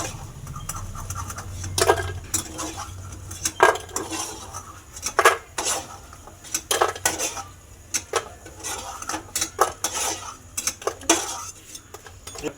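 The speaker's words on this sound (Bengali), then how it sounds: "এই ডালের বড়াগুলো আমার লাল লাল করে ভাজা হয়ে গেছে, তো এগুলো আমি তুলে নেবো।" Fried lentil fritters made from split pea dal are lifted from a pan one by one, giving repeated sharp clinks and scrapes of a metal utensil against cookware at close range, with no talk.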